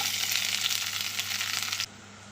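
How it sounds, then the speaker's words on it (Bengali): Onions drop into hot oil left from frying fish heads, giving a loud, bright, continuous sizzle that cuts off abruptly near the end. "এখন ওই একই তেলে দিয়ে দেব পেঁয়াজ"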